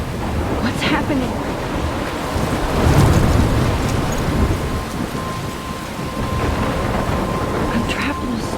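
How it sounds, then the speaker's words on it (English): A thunderstorm in the video game Life is Strange: steady heavy rain and surf-like wash, with a rolling thunder swell building around the middle before easing back into the downpour. "I'm trapped in a storm?"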